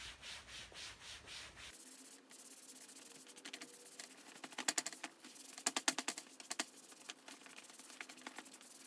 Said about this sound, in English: I'm going to take this grimy, grungy towel, try to level this off a little.